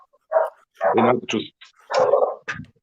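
Several dogs bark in short loud bursts close by, four sharp barks spaced across a few seconds with quiet gaps between them.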